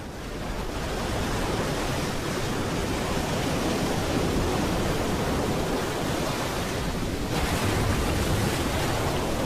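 Waves break continuously on the shore of the Varanger fjord, making a steady, loud wash of surf that rises a little near the end, with no voices.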